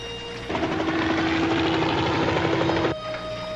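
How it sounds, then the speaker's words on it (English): A helicopter passes directly overhead, its steady rotor drone swelling in suddenly, holding loud and even for a few seconds, then dropping away abruptly. "There's a helicopter directly overhead."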